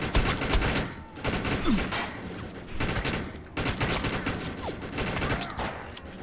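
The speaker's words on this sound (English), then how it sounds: "so of course burst fire is always best" Loud, close bursts of rapid gunfire from the shooter video game Defiance, firing in clustered volleys separated by brief pauses, with no talk over them.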